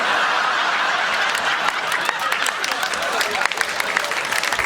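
Audience applause mixed with scattered laughter at a live stand-up comedy show, a dense steady roar of clapping close and loud throughout, no talk over it.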